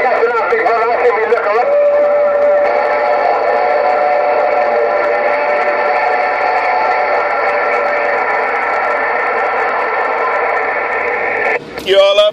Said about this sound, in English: I heard the freight train.